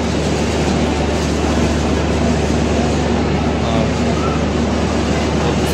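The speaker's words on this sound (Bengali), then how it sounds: "আমাদের ট্রেন 14 ঘন্টা 23 মিনিট দেরিতে চলছে" The Mumbai–Howrah Duronto Express runs at speed, a loud continuous rumble and rattle of wheels and carriages heard from inside, steady for the whole stretch.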